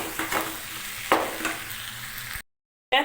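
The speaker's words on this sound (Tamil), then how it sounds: "இப்போ தான் தக்காளி நல்லா வதங்கி வரும் தக்காளி நல்லா வதங்கட்டும்" Tomatoes for a radish chutney sauté in a pan, giving a close, soft sizzle broken by a few scraping stirs. The sound cuts to brief silence near the end before returning.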